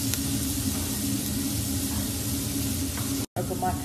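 Chopped onions fry in a pan for balaleet, giving a steady, close hiss and sizzle that runs almost unbroken before a brief cut, then continues.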